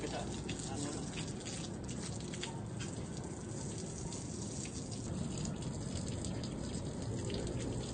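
Water sprays steadily across a freshly poured concrete house slab to keep it damp while curing, a constant broadband hiss with faint talk underneath.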